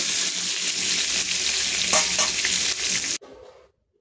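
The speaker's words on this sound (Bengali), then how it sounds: "এরপর ভেজে নেব আমি আলু।" Potatoes fry in oil in a kadai, giving a continuous close-up sizzle with some stirring for about three seconds before it suddenly drops away to quiet.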